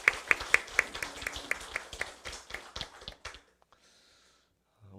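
A church congregation claps in thanks after a choir performance, a few distinct close claps at first, then scattered clapping that fades out after about three seconds.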